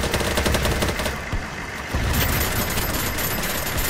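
Automatic gunfire in the online shooter BattleBit, with dense, rapid rattling bursts heard up close and loud, easing briefly midway before the heavy fire resumes; no voices are heard.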